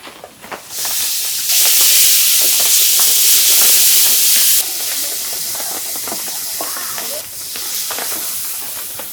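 Onion frying in a pan with garlic and cumin paste added, a loud steady hiss that surges sharply after a second, holds strong for several seconds, then settles to a lower sizzle with faint clinks.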